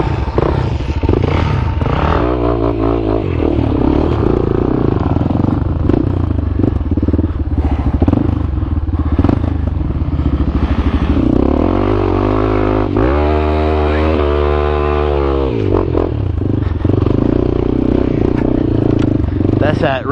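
A Yamaha XT250 motorcycle engine revs hard up to the rev limiter, loud and close with rising and falling revs and a sustained high-rpm buzz, clattering through the ride.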